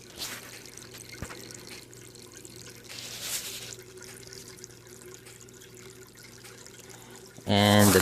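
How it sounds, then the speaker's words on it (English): An aquarium pump in a homemade aquaponic system sends water into a planter, producing a soft, steady trickle and drip at moderate distance, with a brief louder burst of noise right at the end. "so it continuously pumps water down into the tank, into the planter, I should say."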